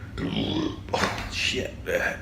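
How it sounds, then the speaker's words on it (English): Pre-workout burps on leg day at the gym, a few low, gurgling belches close to the microphone with voice-like throaty sounds between them. "pre-workout burps"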